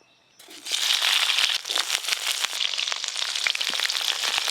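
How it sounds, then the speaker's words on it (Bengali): Bitter gourd pieces hit hot oil and burst into loud, close sizzling that holds steady with sharp crackles and pops, cooked for a Bengali shukto in a village kitchen. "তেল গরম হয়ে গেছে, শুক্তোর জন্য করলাগুলো প্রথমে ভালো করে ভেজে নেব।"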